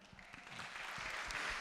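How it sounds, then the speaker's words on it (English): Audience applause at a national youth dialogue event on elections, a steady wash of clapping that builds slightly and holds at moderate level through the short span. "So join me in giving a round of applause to His Excellency, the Right Honorable Raila"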